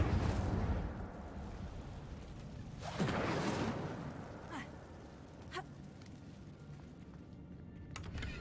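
A fire spell cast in Hogwarts Legacy inside a cave: a sharp whooshing burst near the three-second mark, followed by a couple of shorter crackling flares over a low, rumbling game ambience.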